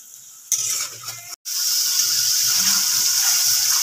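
Water poured into a frying pan of cooked-down masala and tomato for a rohu fish curry, giving a steady close hiss and splash that starts abruptly, briefly cuts out, then runs on continuously.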